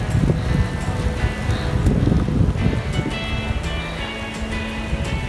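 Strong, gusting wind on the Baltic coast before a thunderstorm, loud and continuous with a low roar buffeting the microphone, over a rushing, surf-like background.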